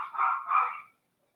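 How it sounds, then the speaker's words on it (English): A dog barks indoors, two drawn-out barks in quick succession, moderately loud and close, followed by silence. "I do apologize for my dog barking in the background."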